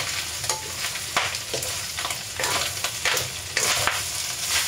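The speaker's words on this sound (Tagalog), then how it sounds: "pagmantikain natin ng konti bago natin ilagay yung bawang, sibuyas hanggang maluto po." Garlic and onion fry in a little oil for an Ilocano igado, giving a steady close sizzle broken by repeated scraping stirs, with no talk.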